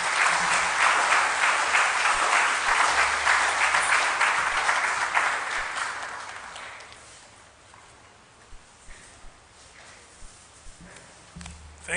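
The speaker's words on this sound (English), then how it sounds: "Let's give him another round of applause." Applause from a public forum audience thanking a governor after his talk, dense and loud for about six seconds before fading to a few scattered claps and room noise.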